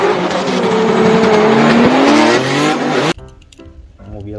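A loud, close race car engine roars and drones steadily with rising pitch as a NASCAR car speeds past, then cuts off abruptly into quieter engine idling.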